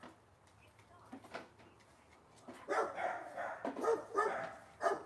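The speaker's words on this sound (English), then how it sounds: "Those dogs are gonna bark at you the whole time too." Dogs bark near a house, a cluster of yaps and barks in the second half, moderately loud with someone talking nearby.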